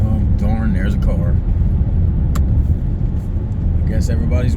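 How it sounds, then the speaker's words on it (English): An oncoming car passes on an early-morning road, heard from inside a moving vehicle as a steady low engine and road rumble, with a driver's voice talking over it. "darn, there's a car"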